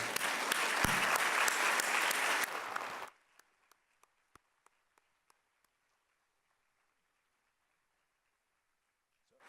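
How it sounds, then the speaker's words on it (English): An audience at the 2019 Cubberley Lecture bursts into full applause for about three seconds, then it cuts off sharply, leaving a handful of lone, trailing claps scattered across a quiet hall. "we'll just clap one more time, because it was amazing"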